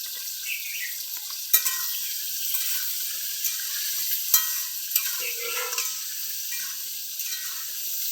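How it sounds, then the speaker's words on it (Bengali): Potato pieces fry with salt and turmeric in a pan, giving a steady bright sizzle punctuated by a few sharp spatula clacks and stirring scrapes, close up and with no speech. "হাফ চামচ হলুদ দিয়ে দিলাম। ভাজা হোক আলুগুলো।"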